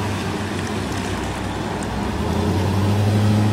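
A Type III school bus pulls into its lane after a right turn, its engine giving a steady, loud low rumble that builds slightly as it accelerates.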